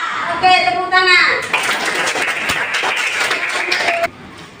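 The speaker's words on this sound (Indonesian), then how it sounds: "Oke, tepuk tangan." A class of children in a primary school classroom bursts into a long round of rapid, close applause that lasts several seconds and then stops abruptly; a voice speaks briefly just before the clapping starts.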